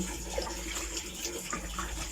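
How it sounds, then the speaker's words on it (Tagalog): Tap water running onto a pack of powdered soap to wet and dissolve it before scrubbing, a steady close splashing wash of water with no talking. "basahin natin ng tubig para matunaw yung sabon"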